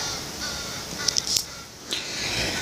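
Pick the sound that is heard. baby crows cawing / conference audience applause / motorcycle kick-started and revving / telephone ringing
baby crows cawing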